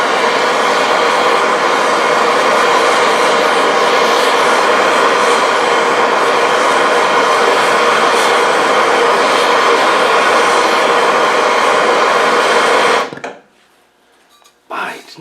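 Torch heating a stuck, Loctited part on an LT77 gearbox, a loud steady roaring hiss that runs unbroken for about thirteen seconds, then stops abruptly, leaving faint handling noises.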